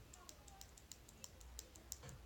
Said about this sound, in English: Oh, it's a really nice clicking action.